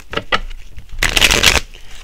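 Tarot cards are shuffled by hand in several quick riffling bursts, two short ones followed by a longer, louder run of crisp card flutter, close and alone.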